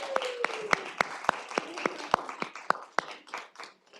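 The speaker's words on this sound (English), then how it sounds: "a big round of applause for our best friend Ryan and the tech crew" Sparse, rhythmic clapping from a summit audience, with distinct loud claps about every quarter second, joined by a faint drifting tone and lighter claps before it trails off.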